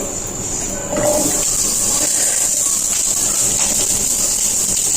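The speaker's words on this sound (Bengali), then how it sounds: "পেঁয়াজ রসুন আর তেল আমি দিয়ে দিলাম কড়াইতে" Onion, garlic and oil hit a hot wok for veg momo filling and set off a sudden loud sizzle that holds as a steady hiss after a quieter start.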